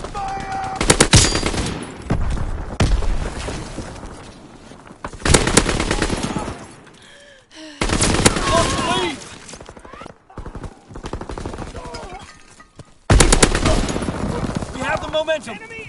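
Rapid machine gun bursts crackle in a World War II battle, loud and punctuated by pauses, with shouted voices and clattering battle effects between the volleys.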